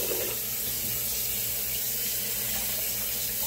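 Water runs steadily from a sink tap while a razor is rinsed after shaving, a close, continuous hiss and splash lasting the whole moment with no talking.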